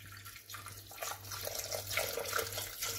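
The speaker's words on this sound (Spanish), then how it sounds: "Ahora tendremos que echar el caldo de verduras o agua." A whole litre of vegetable broth pours from a carton into a Thermomix bowl while making mushroom and zucchini risotto. A steady liquid splashing runs close and continuous over a low appliance hum.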